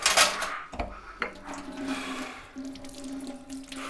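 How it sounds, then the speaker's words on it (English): A tap runs into a sink while someone washes hands after handling a dead mouse, giving a fairly quiet, uneven stream of water with a few clinks and knocks. "Fucking wash my hands."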